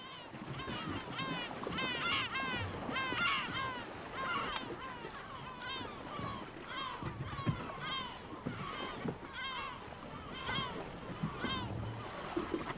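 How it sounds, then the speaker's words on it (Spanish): Sea waves slap and splash against the hull of a motorboat off the Cabrera archipelago, a steady close chop of water with loud, irregular splatters and wind noise throughout, with seabird-like calls mixed in. "el golpeteo de las olas en el casco, el chapaleo"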